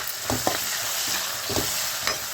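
Green chillies frying in a pan with a tempering of peanuts, urad dal, chana dal and turmeric, giving a steady close sizzle broken by a few sharp scraping stirs of a spoon.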